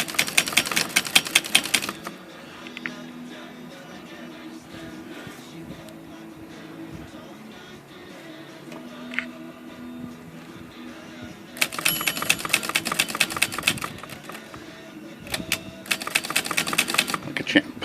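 An MW Signature 440 typewriter types in rapid, loud clattering bursts at the start and again near the end, with a quieter stretch of carriage handling and someone talking between them.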